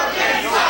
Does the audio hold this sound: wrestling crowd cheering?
yes